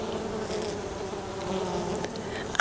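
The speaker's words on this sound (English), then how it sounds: "should hear the bees." Bees buzzing around a garden plot, a steady low insect drone filling the whole stretch at moderate level, with a brief louder rustle at the very end.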